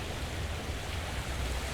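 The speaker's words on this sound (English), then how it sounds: "let us briefly check out the" Water feature at a low-rise hotel in Aruba, giving a steady, even rush of splashing water like a small fountain or cascade, continuous and moderately close with no voices.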